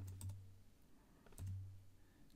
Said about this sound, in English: Another way to look at what's in a variable is actually just to type the name down in the console.